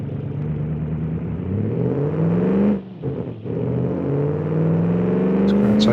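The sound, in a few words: sports car engine revving in BeamNG video game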